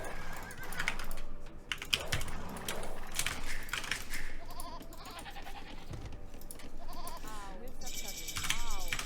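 Sheep bleat in a strategy video game, short wavering cries rising over a busy mix of clicks and rapid keyboard typing, with a voice talking over the action.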